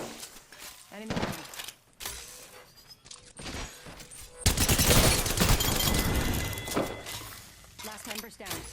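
Havoc rifle fire in the Apex Legends video game, short bursts of rapid gunshots followed by a loud sustained volley, close and dense, with game sounds and voices mixed in.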